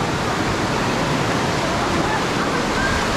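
Ocean surf at Suluban Beach in Bali roars as a loud, steady wash of broadband noise, close and unbroken, with no talk.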